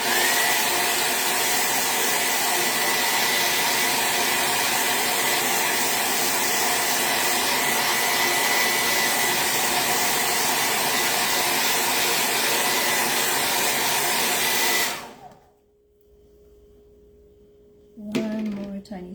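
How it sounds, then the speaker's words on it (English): Loud blow dryer running steadily and close for about fifteen seconds while drying ink on a shirt, then switching off to near silence before a brief clatter at the end. "loud blow dryer again"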